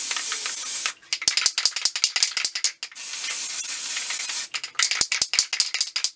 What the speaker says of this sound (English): We're using the red can, which is the sprayable adhesive.